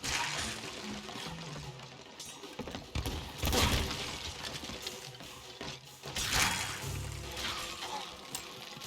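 Gunpowder keg explosions in the pirate game Sea of Thieves: repeated loud crashing, shattering bursts with splashing water, two strongest blasts standing out above a busy, continuous backdrop of sea and combat noise.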